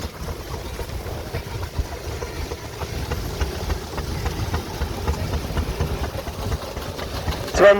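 A steam engine chugs continuously at moderate volume, with a low rumbling throb and a faint hiss over it, and no voices.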